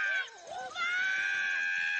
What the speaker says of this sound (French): J'ai encore jamais entendu un perroquet crier comme ça.